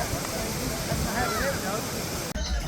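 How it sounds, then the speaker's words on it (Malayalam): Kanthalloor waterfall in Idukki, Kerala, after dusk: a steady broadband rush of falling water, fairly loud and unbroken, briefly dipping near the end, with faint voices mixed in. "ഇത് കാന്തല്ലൂർ വെള്ളച്ചാട്ടം"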